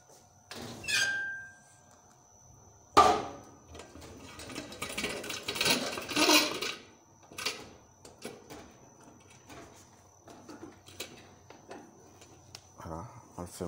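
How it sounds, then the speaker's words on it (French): A laboratory autoclave holding sorghum being closed, with a sharp metallic thunk and clanks, squeaking and rattling of the lid mechanism, followed by quieter handling noises nearby. "Nous allons à présent fermer notre autoclave."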